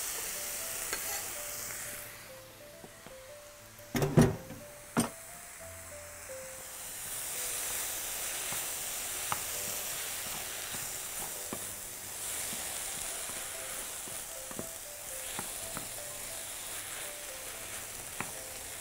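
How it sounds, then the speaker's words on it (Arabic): Colored bell peppers hitting a hot pan and frying with a steady hiss, stirred now and then over reduced heat, with a few louder clatters near the start. "نقلل الحرارة وهنزل معاه بقى الفلفل"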